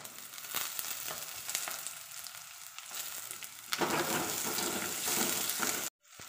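Chopped shallots and green chillies sauté in hot oil for a Kerala-style crab roast, a close, steady sizzle with stirring clatter that grows louder and denser partway through, then cuts off abruptly.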